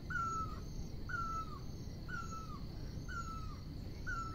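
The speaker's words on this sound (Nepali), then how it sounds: "कुहु गर्ने चरा" A cuckoo on a quiet hillside near the Peace Pagoda in Pokhara calls again and again, a faint, evenly spaced falling note repeated about once a second over soft background hiss.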